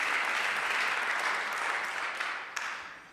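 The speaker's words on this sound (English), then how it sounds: "you can clap for that" A crowd applauds at a conference session, a dense, steady wash of clapping that starts at full strength and slowly tapers, with a few sharper claps near the end.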